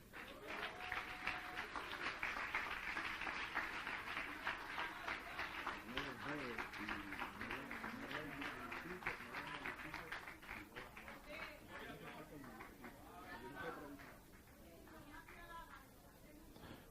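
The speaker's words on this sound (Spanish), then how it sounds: "Dele un aplauso al Señor" A church congregation applauds in sustained, dense clapping that fills the space for a long stretch, with voices and chatter mixed underneath as the clapping slowly thins toward the end.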